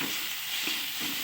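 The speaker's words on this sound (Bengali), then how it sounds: "নাড়তে থাকবো।" Spice paste for chicken curry fries in a pan with a dense, steady sizzle and faint scrapes as it is stirred.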